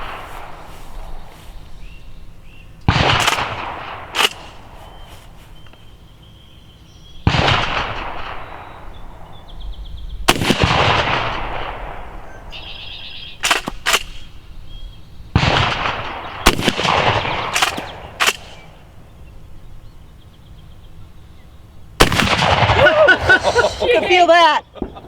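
A Kel-Tec KSG shotgun fires slugs, both managed-recoil and magnum loads, at an outdoor range: loud, separate blasts spaced several seconds apart, with people talking between shots.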